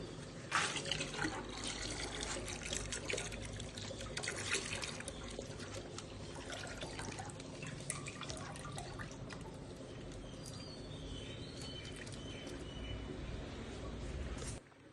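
Milk is poured into a pot in a steady, continuous stream lasting about fifteen seconds, close and liquid, with scattered drips and splashes through the flow before it stops abruptly.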